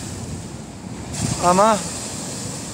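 Strong wind roars steadily across the microphone with waves breaking on a shore during sea bass fishing from the coast, while someone briefly speaks over the constant noise.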